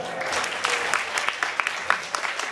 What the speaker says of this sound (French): François Saillard, qu'on applaudit très très fort.